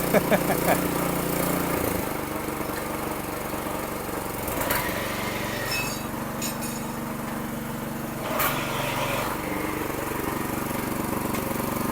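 A new power weeder for farm work runs steadily with a continuous engine drone, close and fairly loud, with a few brief mechanical knocks along the way.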